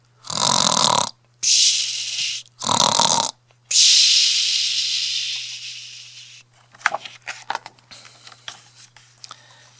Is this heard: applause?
no